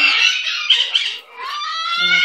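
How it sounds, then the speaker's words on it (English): A pet lovebird squawks loudly up close in a string of harsh, raspy calls, with a brief pause midway before it resumes with shriller, more tonal squawks. No one speaks. "That's my little lovebird."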